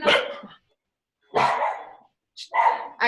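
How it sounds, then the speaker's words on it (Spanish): Poodle-type dogs bark from a few apartments away in the neighbourhood, sharp separate barks coming in three or four bursts with silent gaps between them. "unos perros como poodle, como 2 departamentos más allá, y cuando los sacan ladran"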